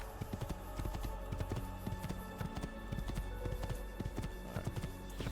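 Horse hooves gallop in a steady, rapid clip-clop rhythm in the video game Assassin's Creed II, fairly faint and continuous with a low ambient hum beneath.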